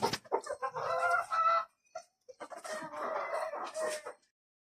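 A rooster crows twice at a large fancy-breed chicken farm near Kolkata, each call loud and close, with a short quiet gap between them and no talking.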